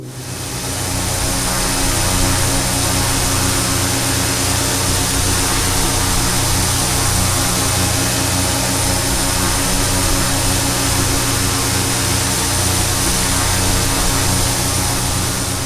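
A Carenado C208B turboprop engine in a flight simulator game, throttled back while approaching cruise altitude, produces a loud, unbroken droning hum that holds steady for the whole stretch with no voices over it.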